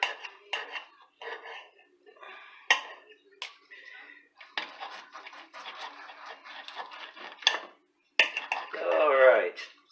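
A knife cuts through a tri tip roast on a plate, giving intermittent scraping clinks against the plate in short bursts, close and moderately quiet, with someone talking in between.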